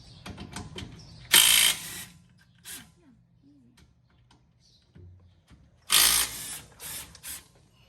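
Ratchet clicking while loosening a bolt on the rear axle of a 2020 Jeep Gladiator during a gear change, two bursts of rapid clicks with quieter handling sounds between them, near and fairly loud, with brief voices.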